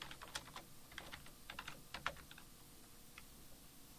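Someone types on a computer keyboard while entering a chapter title into a table cell. The keystrokes come in quick, irregular bursts of close, soft clicks that thin out toward the end, with no voices.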